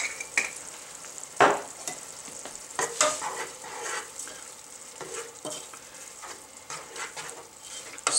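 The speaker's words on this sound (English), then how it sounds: "Stir the whole thing together." Meat sauce being stirred in a pan with chili powder and Italian seasoning, a steady close scraping and faint sizzle with one louder clatter of the spoon near the start.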